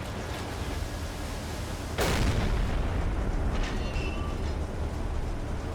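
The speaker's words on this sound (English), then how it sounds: "Oh, that was a big explosion." A loud explosion booms in the Silent Hunter 3 submarine game, striking sharply against a constant low rumble of engine and sea noise and then trailing off into a sustained roar.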